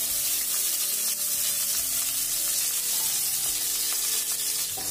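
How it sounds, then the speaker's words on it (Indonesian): Shallots, garlic and tomato fry in hot oil for a sambal tempe penyet, giving a loud, steady, close sizzle that runs unbroken throughout with no voices. "Kemudian goreng bawang merah, bawang putih,"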